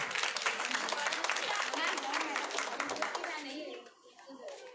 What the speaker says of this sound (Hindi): भूमिका के लिए एक बार ताली बजा दो।